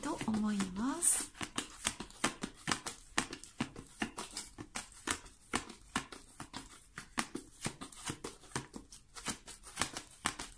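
Tarot cards are shuffled with a run of soft, quick papery flicks repeating throughout, faint and close, alongside a brief voice near the start.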